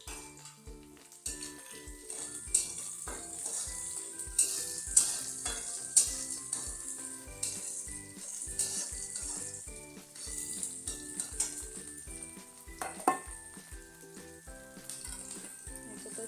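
Onion frying in a pan until reddish, a continuous bright sizzle with intermittent utensil clinks and stirring scrapes against the pan, close but fairly soft throughout.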